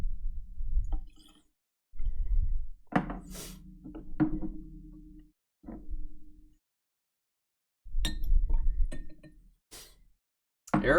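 Glasses of bourbon samples clink and thunk as they are poured and mixed together, in several separate bursts of glassy knocks and pouring with quiet gaps between.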